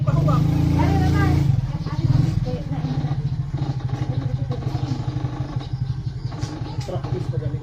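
A motorcycle engine runs steadily with a fast, rattling putter, close and fairly loud, while people talk over it at the start and a raised voice cuts in briefly.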